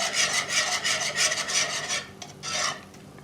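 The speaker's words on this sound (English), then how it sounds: "I'm going to use my whisk just to blend this a little bit better." Whisking heavy cream into cream of mushroom soup in a pot for a chicken pot pie, a steady rapid scraping and swishing of the whisk against the pot in close rhythmic bursts, easing off briefly before one last flurry.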